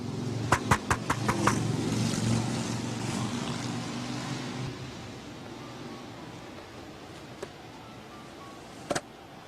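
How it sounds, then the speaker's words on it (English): Cars driving past on a city street: a passing vehicle's broad whoosh swells in the first half and fades, while sharp clicks and taps sound near the start and a few more come later. "I have to get off the street because the cars are going by"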